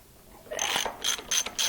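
Socket ratchet clicking while loosening a tight cylinder head bolt on a Briggs and Stratton 31F707 engine with a blown head gasket, a close, loud metallic rasp followed by three shorter ratcheting bursts.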